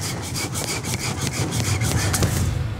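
Rhythmic rasping strokes of a wire saw work through an overgrown tusk on a large pig during a veterinary procedure, loud and close, with a continuous back-and-forth sawing pattern and no voices.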